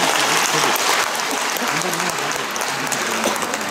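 Warm, steady applause from a large audience welcoming a choir at a community arts troupe's tenth-anniversary concert, filling the room continuously with a faint voice underneath.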